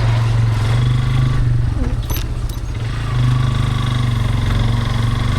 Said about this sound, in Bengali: মোটর সাইকেল চালানোর অনুভূতিটাও কিন্তু অন্যরকম একটা ভালো লাগা সৃষ্টি করে।